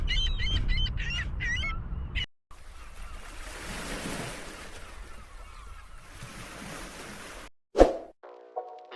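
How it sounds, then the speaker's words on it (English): Seagull calls by the sea: a quick series of loud, harsh squawks over rolling ocean surf, followed by quieter wave wash and a brief splash. "They even imitate other gulls' calls to trick each other."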